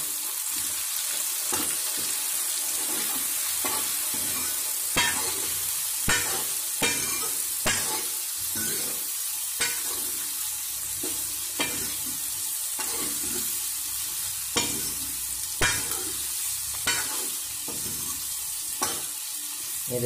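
Tinda (round gourd) being stirred with salt and turmeric powder in a sizzling pan, with steady frying hiss and repeated sharp spoon scrapes and clacks at an irregular rhythm, close and alone without talk.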